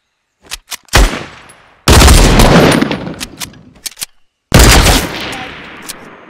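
Gunfire in the video game Fortnite: a few sharp single shots, then two loud long bursts that ring out and fade, with gaps between them and no voices.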